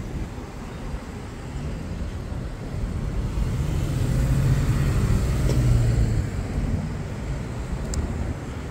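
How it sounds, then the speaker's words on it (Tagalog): Road traffic heard from a roadside sidewalk, a steady close rumble of passing cars that swells in the middle as a vehicle goes by, then eases slightly, with no talking. "Traffic."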